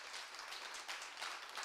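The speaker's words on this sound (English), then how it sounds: "Give up a round of applause for Gerardo and Evelyn." An audience applauds at a Bitcoin economy conference, a soft and steady wash of clapping heard from a distance with no voices above it.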